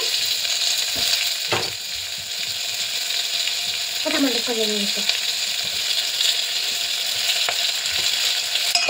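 Tomatoes fry in a hot pan with a continuous bright sizzle, loud and close, and a couple of brief clinks and a short higher squeal partway through.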